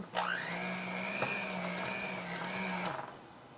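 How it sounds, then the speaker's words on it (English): An electric kitchen mixer whirs steadily at high speed while beating powdered sugar into a muffin frosting, a close, continuous motor hum for about three seconds before it cuts off, with no talking. "my mixer just starts off faster than what you think it should"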